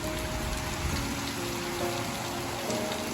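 Steady rain falling in a village in India, a continuous even hiss with no voices or other sounds.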